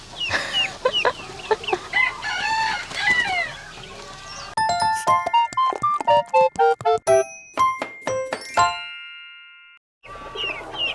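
A hybrid of a silkie and a wild chicken clucks in short bursts nearby, followed by a run of sharp ringing dings and a brief silence, with no talking.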